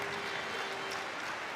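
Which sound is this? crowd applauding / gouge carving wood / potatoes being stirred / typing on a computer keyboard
crowd applauding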